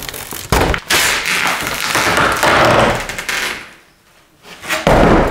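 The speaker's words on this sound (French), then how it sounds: "Alors on va arracher cette porte." A home renovation where a door is torn out with a crowbar, giving loud cracking, banging impacts and rough scraping that dip briefly into quiet before another hard burst.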